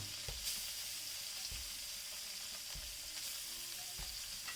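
Koi fish frying in oil over a village-style clay stove, a steady close sizzle with occasional low thumps and stirring knocks, no voices.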